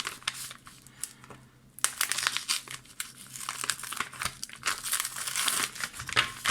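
Plastic packaging around Ultra Pro trading card supplies is torn open, giving loud, close crinkling and crackling that swells in repeated bursts with a short lull partway through.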